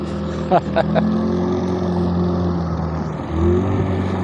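A motorboat engine drones steadily in the marshlands of southern Iraq, its low harmonic hum holding throughout with a brief rise in pitch near the end, while a few sharp knocks and light wind sound close by.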